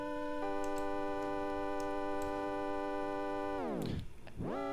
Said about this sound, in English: So you'll hear there's this cassette tape sound under it.